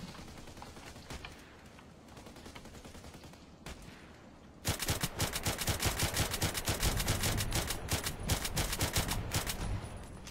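Automatic gunfire from a KelTec RFB rifle in the online shooter Contract Wars: a few scattered shots at first, then a sudden sustained burst of rapid, loud, closely spaced reports that rattles on to the end.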